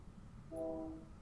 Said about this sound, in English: Oh shit, that's a train.